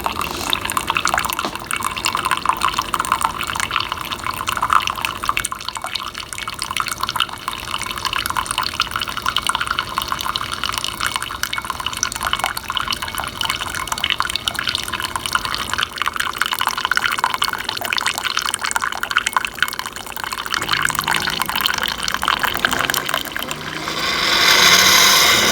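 A Keurig K-Duo Plus coffee maker dispenses hot water into a cup for about twelve ounces, a continuous pouring and gurgling stream with the machine's hum underneath, ending in a few brief sputters; no one speaks.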